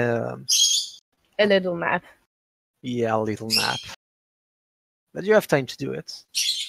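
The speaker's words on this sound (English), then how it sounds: "Sorry about my birds. Shush." Pet birds in a room chirp and squawk in short, bright bursts between and over people talking during a tabletop roleplaying game session, the calls fairly close and recurring every second or two.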